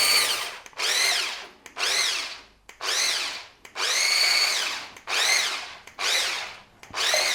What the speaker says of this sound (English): a little wireless whisk, and I'm just going to break these eggs gently with the whisk, and let's start blending them together.